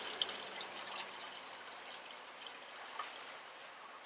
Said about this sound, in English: It will actually leak out the water pump.